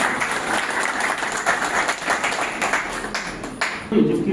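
Loud, continuous applause and clapping from a crowd welcoming the district magistrate at a Shamli festival celebration in the collectorate grounds, steady throughout with a brief burst of louder claps at the end.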